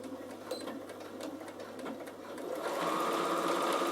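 A Bernina sewing machine quilts a Christmas hand towel, its needle running in a steady continuous whir that grows slightly louder and busier toward the end, close by with no talk.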